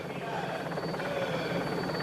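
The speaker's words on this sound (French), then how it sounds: "On va rester ici avec l'hélicoptère." Helicopter filming a Tour de France stage between Strasbourg and Mulhouse in 1992, a steady, faint rotor drone with rapid chopping under a commentator's voice.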